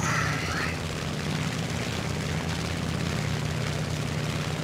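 A propeller airplane engine in the War Thunder video game drones loud and steady throughout, with a brief higher whine at the start.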